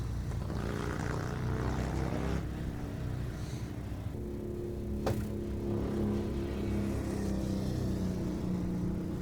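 Vintage racing motorcycles run during a first-day practice session at a Sons of Speed event, giving a steady, fairly faint engine drone with shifting pitch and a brief sharp crackle midway, distant and without talk.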